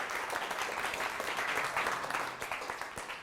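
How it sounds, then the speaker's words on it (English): A classroom audience claps in a dense, steady round of applause lasting a few seconds, fairly faint and even throughout, with no talking. "let's give each other one last good round of applause"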